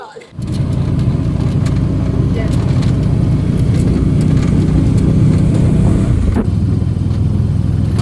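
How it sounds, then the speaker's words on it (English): A tuk-tuk buggy drives through the Banco forest national park in Côte d'Ivoire, its steady engine loud and close for several seconds before it eases off near the end. "We're in the middle of a forest on a tuk-tuk."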